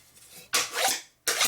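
A file or rasp scraping burrs off freshly cut metal on a custom rigid chopper bike, two close, harsh rasping strokes separated by a short pause.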